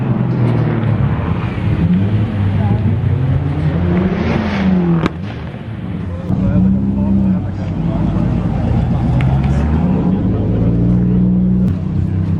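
Cars rolling into a busy Friday night car meet in Calgary, engine hums and revving passing nearby over a constant crowd and traffic din, with people talking throughout.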